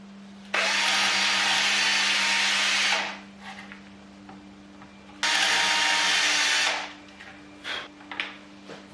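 Power screwdriver driving the screws that attach the neck to an Ibanez RG guitar body, two loud bursts of high whirring of about two to three seconds each, separated by a pause with small handling noises and a steady low hum underneath.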